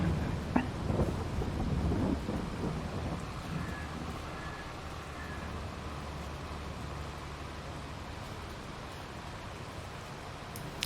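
Rain and thunder in the Farming Simulator 22 video game: rumbling thunder builds early over a steady hiss of rainfall that continues evenly to the end.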